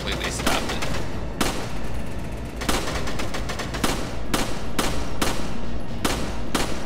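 Repeated gunfire from the video game Resident Evil 5, sharp shots cracking out at irregular intervals over a dense, busy game soundscape, with people talking now and then.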